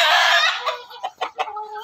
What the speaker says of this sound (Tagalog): Dami namin manok dito.